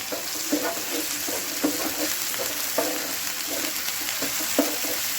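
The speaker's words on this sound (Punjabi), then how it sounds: "ਇਦਾਂ ਹੀ ਅਸੀਂ ਫਰਾਈ ਕਰਾਂਗੇ" Lentil bhurji made with fenugreek leaves fries in a pan, a steady close sizzle with soft stirring scrapes recurring every second or so, no voices over it.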